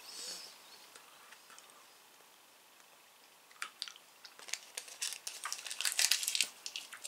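Hard, long-lasting soft-chew fruit candy being chewed and crunched close to the mouth, quiet at first and then building into dense, irregular crunchy bites near the end.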